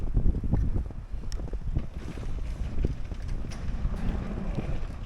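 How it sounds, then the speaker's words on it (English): Wind gusts across a snowy winter camp near a Snowcat and snowmobile trails, a loud, broad, continuous rush buffeting the microphone with low rumbling throughout and no speech. "So pretty windy out too."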